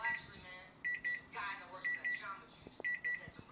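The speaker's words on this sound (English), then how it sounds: "when your timer goes off and you hear this sound" Kitchen timer alarm going off while baking cookies, sounding close as clear, high electronic beeps in quick groups of three, the pattern repeating about once a second over faint background noise.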